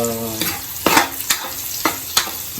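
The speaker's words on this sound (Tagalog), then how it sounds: "Tutustahin lang natin ng konti yung bawang" Garlic toasting in oil in a frying pan while being stirred, with a steady sizzle and a handful of sharp scraping strokes at irregular intervals, close and alone.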